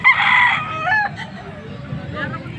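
A full stag rooster, a young cock with a double wing band, crows loudly and close at the start, then the call fades into quieter farmyard background.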